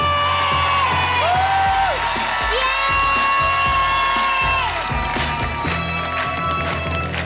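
A television studio audience cheers and whoops loudly for a performer, bright shouted voices and sustained crowd noise with some clapping, while music or a presenter's tones run underneath.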